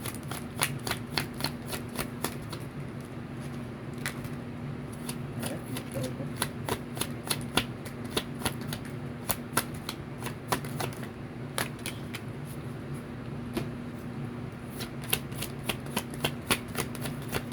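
Tarot cards shuffled by hand for a reading, a steady run of crisp riffling snaps and flutters repeating throughout, close and clear over a low background hum.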